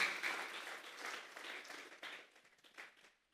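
A church congregation claps together during a Spanish-language service, a dense burst of applause that thins out and fades over about three seconds, fairly quiet and distant.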